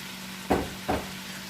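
Cabbage being stirred and spread into spicy shrimp in a pan, giving two short scraping, sizzling stirs over a steady low hum, with no talk.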